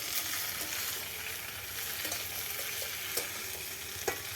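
Eggplant and colourful vegetables fry in hot oil with a continuous, close crackling sizzle and a few scattered pops.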